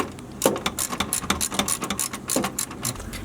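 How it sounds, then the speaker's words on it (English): A wrench tightens a GrimmSpeed pitch stop mount bolt, making a quick run of sharp ratcheting clicks that come in short uneven bursts, close and fairly clear, with no talking. "grab the wrench and then just start tightening it down"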